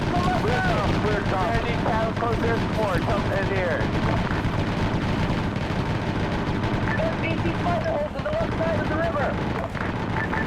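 Dense, sustained gunfire from enemy spider holes on a Vietnam river boat patrol in a war game, loud overlapping shots and booms under a talking voice, with a helicopter-like drone beneath.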